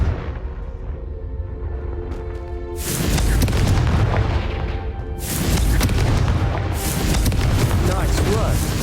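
Confringo fire spell explosions in the Hogwarts Legacy video game: two loud booming blasts with a long rumbling tail, separated by a brief lull, while a character speaks over the quieter opening.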